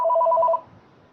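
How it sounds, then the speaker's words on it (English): An electronic telephone ring, a short loud burst of rapid double-tone trills that cuts off after about half a second. "I don't know who's ringing."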